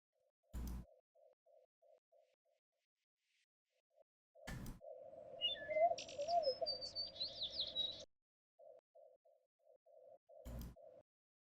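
Outdoor birds chirp and tweet in short repeated notes and a longer warbling burst of rising and falling calls, broken by a few sharp, loud clicks and quiet gaps.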